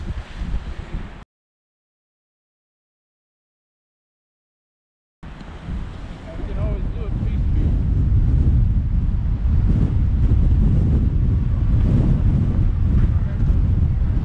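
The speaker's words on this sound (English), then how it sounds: "That wind's still blowing 30, 40 miles an hour." Strong outdoor wind during a Wyoming elk hunt, gusting at 30 to 40 miles an hour, roars as a loud, steady buffeting rush against the microphone after a short silent gap, with a brief bit of talk at the start.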